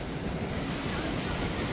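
Floodwater of the swollen Eb River in Jashpur rushes in a dense, continuous roar, steady and close, mixed with wind buffeting the microphone.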